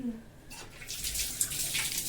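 Baby potatoes are rinsed in a kitchen under running tap water, a short splashing gush that starts after a quiet moment. The splashing stays close and moderately loud, with a brief louder splash near the end.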